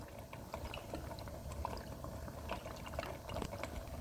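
Thick sloppy joe meat with ketchup being stirred in a pot, a faint, wet squelching and soft scraping with scattered small clicks, quiet and close.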